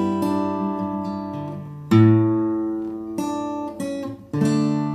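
Low bass notes on an acoustic guitar ring out alone: a few plucked strikes, each decaying slowly before the next, in a tune from Frozen.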